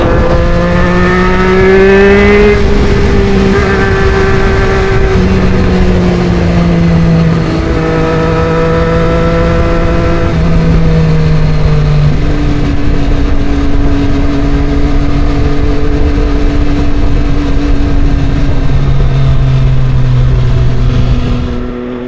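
A Triumph Street Triple 765 RS motorcycle engine drones loudly and steadily throughout a ride, its pitch rising and falling as the rider shifts through gears, with strong wind rush and no voices.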